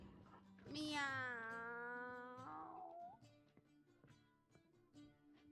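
A cat in the video game The Witcher 3 gives one long, drawn-out meow, clear and up front, then quieter game sounds continue.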